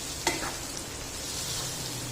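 Cubed tomatoes frying in a pan over an already spiced bitter gourd and onion sabzi, a brief stir at the start followed by a steady close sizzle.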